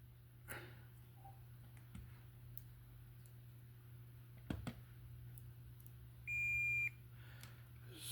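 A multimeter on continuity gives a single steady beep lasting about half a second while IDEAL lever connectors are tested, following a few faint probe clicks over a low, quiet hum.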